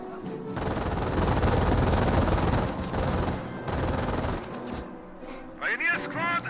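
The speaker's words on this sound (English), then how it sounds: "The Wehrmacht player has triple MG42." In Company of Heroes, MG42 machine guns fire sustained, dense rattling bursts over a few seconds before tapering off, followed by short sharp game effects.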